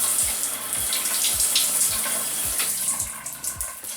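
Water sprayed or poured onto hair during a wash-and-go styling routine, a continuous close splashing hiss with rhythmic low pulses, no talking.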